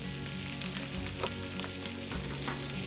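Fish maw pan-frying in oil for a ginger and scallion dish gives a steady, close sizzle throughout, with soft crackles and brief pops over a continuous frying hiss.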